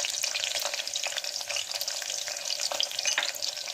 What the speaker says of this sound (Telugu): ఎర్రగడ్డలు ఎక్కువ వేగనివ్వద్దు ఫ్రెండ్స్